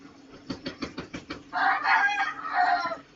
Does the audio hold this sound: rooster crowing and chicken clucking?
yes